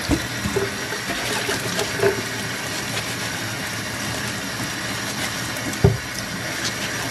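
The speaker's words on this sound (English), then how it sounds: "So what we want to do is make sure that we wash them really well." Oranges, along with a lemon and a grapefruit, are washed for marmalade under a running kitchen tap, giving a steady close rush of water with occasional splashes and knocks in the sink.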